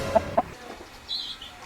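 A fighting rooster gives two quick, close clucks followed by a fainter, higher squawk, with no talking.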